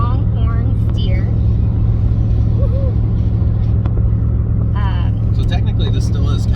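Low steady engine rumble and road drone from inside a truck heading to pick up a Longhorn steer, continuous and close, with people talking over it.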